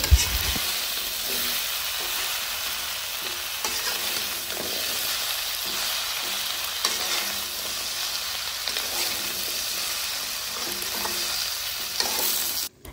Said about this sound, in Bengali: নেড়ে চেড়ে কচুগুলো আমরা সমস্ত মশলার সাথে ভালোভাবে মিশিয়ে নেব।